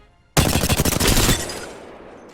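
A rapid burst of gunfire in a shooter video game, a fast, loud string of closely spaced shots lasting about a second and then fading into a ringing tail, with no talking.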